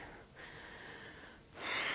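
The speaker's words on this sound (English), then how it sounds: "So deep breaths here." Slow, deep breaths during a yoga session, a long airy inhale followed by a stronger, rushing exhale, close and alone with no talking.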